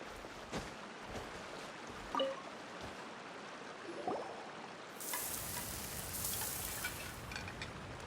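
Food cooks in the video game Genshin Impact. A hissing sizzle rises after a few seconds and holds steady to the end, following quieter clinks and watery bubbling at moderate level.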